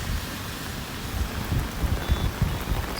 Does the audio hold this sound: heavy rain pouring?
yes